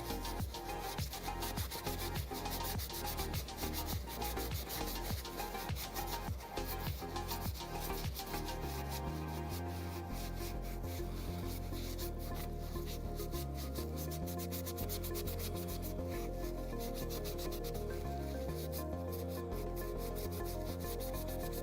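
A napkin is rubbed against a 3D-printed Umbreon Pokémon figure to clean under the torso, making quick, close, dry scrubbing strokes that come in bursts and then settle into a softer, steadier wiping.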